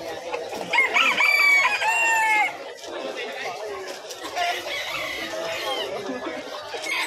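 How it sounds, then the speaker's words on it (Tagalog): A rooster of short-built bantam type crows loudly and nearby at a busy pet market in Malabon, rising over a background of clucking fowl while people talk throughout. "Manok yan, manok."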